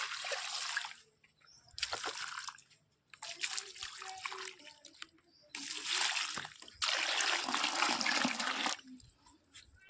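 Water splashes onto potted flowering plants on a rooftop terrace in several separate bursts of pouring and trickling, each a few seconds long with short quiet gaps between.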